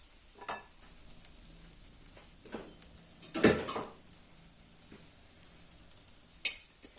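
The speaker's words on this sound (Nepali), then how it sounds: "मजाले मिक्स गर्नुपर्छ चलाएर।" A spoon stirs puwa, a sweet Nepali rice batter, in a pan on the stove, giving a low steady sizzle broken by a few scraping and clinking strokes against the pan, one of them louder and longer.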